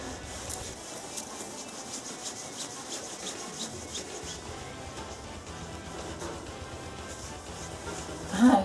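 A cloth rubs and wipes over the lathe-polished drum section of an STI car muffler, giving a soft, continuous scrubbing texture with faint rhythmic strokes and a brief louder scrape at the end.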